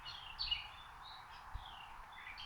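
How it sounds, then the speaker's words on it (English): Birds chirping outdoors, faint, short high calls repeating over a soft, quiet background. "I hear birds."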